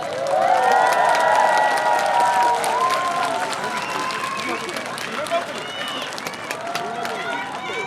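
A crowd applauds and cheers at a presidential campaign rally outside Chuncheon Station, a sustained roar of clapping with voices shouting over it that slowly eases off.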